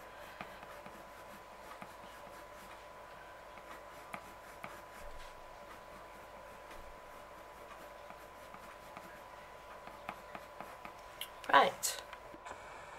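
Coloured pencil lightly shading on paper with soft pressure, a faint steady scratchy rub running continuously, quiet and close, with a louder burst near the end.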